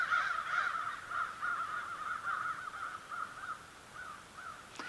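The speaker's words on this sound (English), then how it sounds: "Crows everywhere. Probably 50. Can you hear them?" Many crows caw over and over from a large flock spread around at a moderate distance, their harsh calls overlapping steadily with no one talking.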